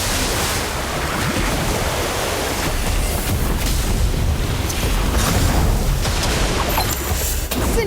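A loud, steady whoosh of rushing, surging water from a water orb spell in the video game Harry Potter: Magic Awakened roars continuously like crashing surf, with low rumbling underneath.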